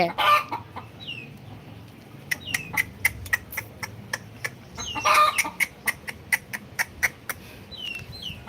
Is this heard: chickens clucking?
yes